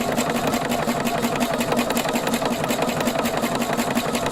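A Husqvarna sewing machine runs steadily through a decorative stitch with an edge stitch foot, a close, continuous rapid mechanical chatter with no pauses.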